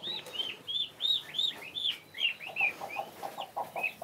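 A broody hen clucks softly with high peeping chirps from young turkey chicks kept under her, a steady close run of short calls with no one talking.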